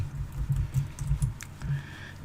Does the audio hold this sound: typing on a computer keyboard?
yes